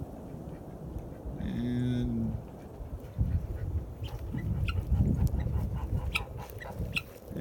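Goose honks sound in a short run early on, then someone talks over outdoor background noise in Lame Deer, Montana.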